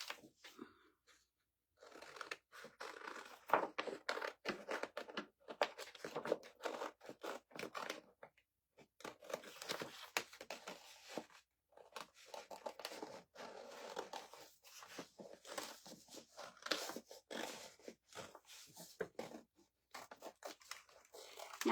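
Scissors snipping through paper leaves for a window decoration on glass, a long run of short crisp cuts and rustling crunches close by, in busy bursts with a few brief pauses, no talking.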